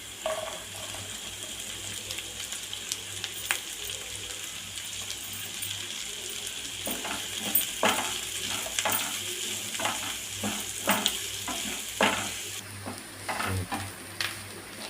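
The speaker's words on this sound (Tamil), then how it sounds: "வெங்காயம் நல்லா பொன்னிறமாக வதங்கிடுச்சு" Steady oily sizzle of chopped onions frying in oil in a pan, with scattered clinks and stirring scrapes growing busier toward the end.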